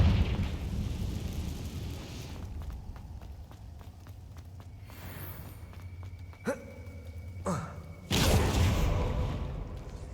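In Hogwarts Legacy, a Confringo fire spell goes off amid game footsteps and ambience: a couple of sharp bursts, then a louder fiery blast that roars on near the end.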